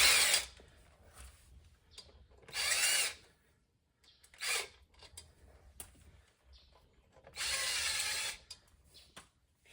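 A power drill spins out screws on a 2004 Honda VTX 1800C motorcycle during clutch work, with four loud bursts of whirring separated by short pauses and faint clicks in between.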